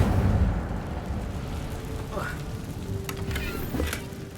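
Incendio fire spell cast in the Hogwarts Legacy video game inside a cave: a steady low roaring rumble with brief crackling flickers and a faint tonal whoosh, moderately loud throughout.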